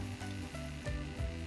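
Finely chopped onions hit hot oil in a pan with a loud, steady sizzle and occasional stirring, close up with no talk.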